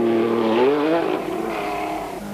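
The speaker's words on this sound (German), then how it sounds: "Hier der Pole Jarosewicz beim Querfahren auf seinem Stratos." A Lancia Stratos rally car is driven sideways on a Baltic rally stage in 1976, its engine loud and close, rising in pitch then easing off with a steady rasping note.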